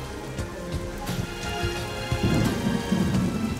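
Rain falls steadily at a holiday campsite, a constant close hiss of drops on surfaces, with low rumbling swells and scattered heavier taps.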